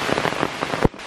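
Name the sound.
heavy rain pouring down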